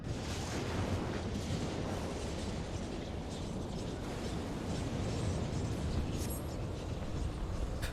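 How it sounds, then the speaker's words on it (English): The Ultima spell in Final Fantasy 14 unleashes a huge, sustained roaring explosion, a dense rumbling blast that stays loud and continuous for several seconds with crackling bursts throughout. "Wow, what a huge explosion."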